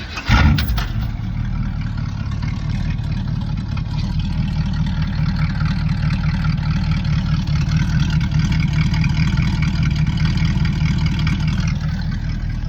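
A 1966 Chevrolet C10 pickup's exhaust through a 2.5-inch tailpipe, holding a steady, loud, deep idle rumble with a slight blip near the start.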